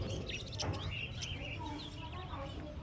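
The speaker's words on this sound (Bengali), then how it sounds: "এখানে লাভবার্ড পাখি দেখতে পাচ্ছেন" Lovebirds in cages at the Garia bird market give quick, scattered chirps amid a busy crowd murmur, with talking nearby.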